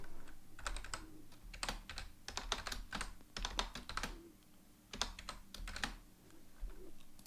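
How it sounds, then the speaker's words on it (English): Bursts of close computer-keyboard typing come in uneven clusters of rapid key clicks with brief pauses between, fairly quiet and with no talking over them. "I don't know why I can't type today."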